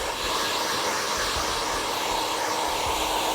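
Hair dryer blowing steadily and loudly at close range while drying hair in a salon styling session, a continuous airy roar with no break.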